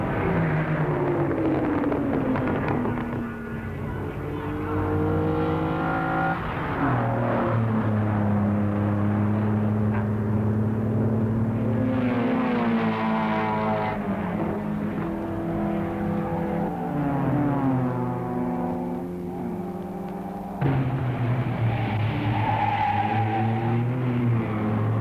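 Race cars in the 1961 Targa Florio on the mountain roads of Sicily, engines howling and rising in pitch through the gears as they pass and accelerate one after another, loud and close, with no talking.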